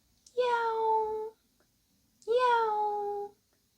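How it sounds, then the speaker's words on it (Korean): A cat meows loudly twice, each call long and drawn out and about a second in length, separated by a short silence, close and clear against a quiet background. "요란하게 울어대는 고양이 소리"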